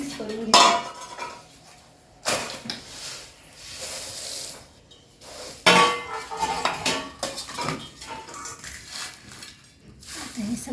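Homemade Maharashtrian black masala being mixed by hand in a vessel, with bursts of metallic scraping and clinking of a spoon against the pot, separated by brief pauses, close by.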